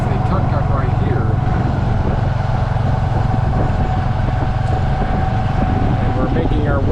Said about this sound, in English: I'm actually in the back of the tuk-tuk on my way to the Angkor Wat here in Siem Reap, Cambodia